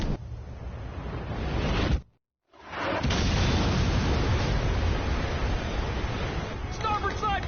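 Heavy rumbling blasts from artillery fire and missile impacts in Ace Combat 5, a dense, loud low roar broken by a brief silent gap, then a sustained crashing wash.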